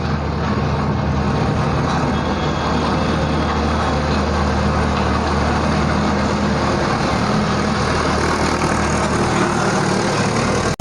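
A vehicle engine idles steadily while held still on the clutch and brake during hill parking practice, a continuous low rumble with a constant drone, close and loud throughout, with no talking.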